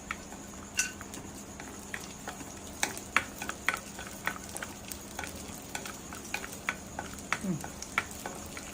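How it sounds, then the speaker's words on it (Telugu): Dry fruits frying in two tablespoons of ghee in a kadai for semiya, a soft crackling sizzle broken by frequent light pops and ladle taps, quiet and close without any talk. "కడాయిలో 2 టేబుల్ స్పూన్ల నెయ్యి వేసి డ్రై ఫ్రూట్స్ని వేయించుకుందాం"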